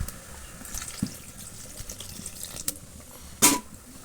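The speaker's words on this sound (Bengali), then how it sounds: "সামান্য একটু জল দিয়ে দেব" Water is poured into vegetables simmering in a cooking pan, heard as a short, fairly loud splash near the end over a low, quiet kitchen background.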